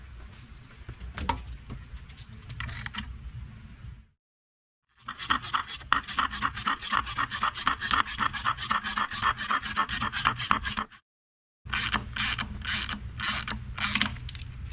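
A bolt is threaded in while fitting a Cobra crank support, heard as a rapid run of close ratcheting clicks in several bursts separated by short silences, with some low rumble in the first stretch.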